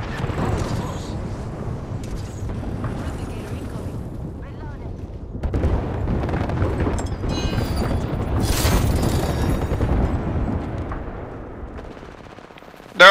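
Automatic weapon fire in the video game Apex Legends, sustained rapid bursts with booming impacts throughout, loud and continuous, with players talking over it.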